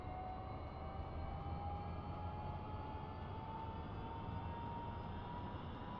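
A UH-1H Huey helicopter's turbine engine and rotor spinning up during a cold start in the DCS World flight simulator, a steady loud whine rising slowly in pitch over a constant broadband rumble.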